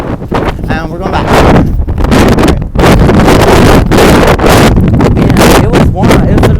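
Strong wind on a blustery day roars and buffets the microphone in loud, continuous gusts with rumbling low-end bursts and brief lulls, while a person talks underneath.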